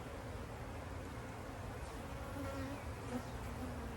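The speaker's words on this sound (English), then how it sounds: "These bees do seem a little agitated this morning." A colony of agitated honeybees buzzes steadily at a hive with its top just opened, a dense, continuous drone with individual bees whining close by.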